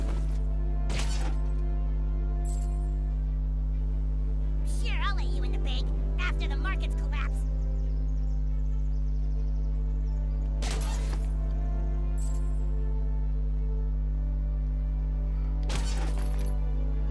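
Objects smashed in South Park: The Fractured But Whole, with several sharp shattering crashes at intervals over a steady low game-music drone.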